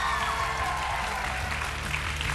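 A crowd applauds a young performer on a Serbian talent show, a steady, fairly quiet wash of clapping that fills the short moment without a break.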